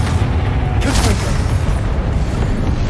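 A Confringo fire spell blast in Hogwarts Legacy: one sharp, loud burst within a dense, continuous roar of game noise and rumbling booms.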